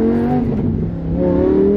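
Lamborghini exhaust revving loud and close, a sustained rising and falling engine roar with rough crackling texture throughout, no voices over it.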